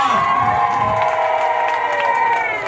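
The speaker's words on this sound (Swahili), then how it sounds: "Piga makofi kwa Kondesa." Crowd at a political rally in Songwe bursts into loud, sustained cheering and whooping with clapping, a dense roar of voices with high shouts rising above it, continuous across the whole span.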